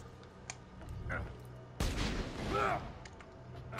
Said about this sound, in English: Could you please stop shooting me?